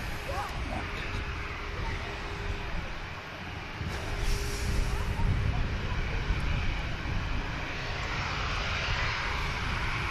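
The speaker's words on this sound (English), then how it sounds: "There's a Dreamliner going to be making its way over here in a second." Boeing 787 Dreamliner approaching an airport, a steady broadband jet roar that swells slightly in the middle and stays fairly loud throughout, with faint speech beneath.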